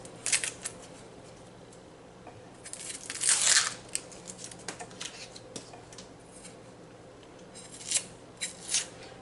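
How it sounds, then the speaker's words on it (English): Quiet, irregular crunchy chops of a knife cutting through an onion, mincing it for shrimp curry; short bursts of slicing spread through the clip, louder around the middle and again near the end, with no talking. "And I'll mince this onion as small as I can also."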